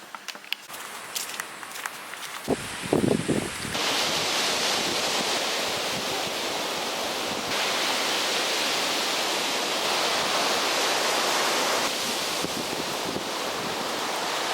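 Ocean waves breaking at an Australian beach, a broad, steady roar of surf filling the scene after a few brief rustles and footsteps at the start, with no voices.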